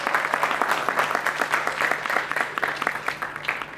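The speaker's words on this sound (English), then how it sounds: "With a huge round of applause and welcome them." A press conference audience for a crime series trailer launch gives steady, moderately loud applause, dense crisp clapping with no voices over it.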